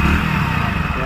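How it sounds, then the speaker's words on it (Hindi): Hero HF Deluxe E20 BS6 motorcycle exhaust idling close by, a loud, steady low rumble with a slight uneven throb over about a second. "बाकी इसकी जो एग्जॉस्ट है उसकी साउंड मैं सुना देता हूँ कि इसकी जो एग्जॉस्ट की साउंड वो कैसी आ रही है"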